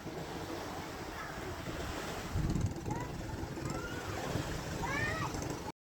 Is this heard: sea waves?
yes